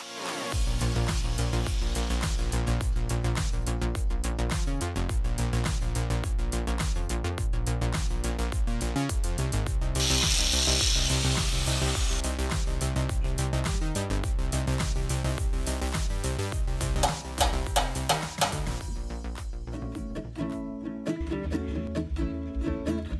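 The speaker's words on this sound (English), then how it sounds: "One, you really need a corded drill." A corded drill bores into a rusted, broken bolt, whining steadily and continuously at close range for the whole stretch, with the pitch shifting under load and a brief harsher grinding burst partway through.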